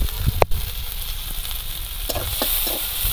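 Chopped onions with a pinch of salt fry in a little oil in a wok, giving a steady close sizzle with a few sharp crackles and stirring clicks. No voices.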